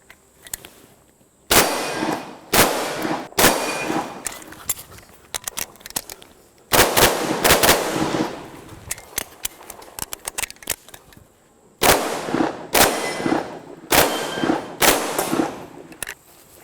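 Gunshots ring out at a sport shooting practice, sharp loud cracks fired in quick strings with metallic clangs from hit steel targets, separated by quieter pauses with faint birdsong in the background.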